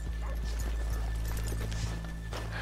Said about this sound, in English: Let's leave the horses here off the main draft.